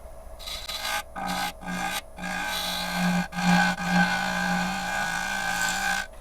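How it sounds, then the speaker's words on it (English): A freshly sharpened half-inch bowl gouge cuts a live edge burl spinning on a lathe, giving a loud, continuous raspy scraping with a steady hum beneath it, broken by brief gaps where the tool lifts off the wood. "I'm going to move to a smaller bowl gouge. This is a freshly sharpened half-inch."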